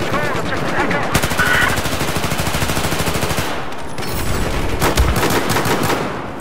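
Pistol and automatic gunfire in a Battlefield match, dense rapid shots rattling continuously at close range, with a sharper burst of separate cracks in the latter half.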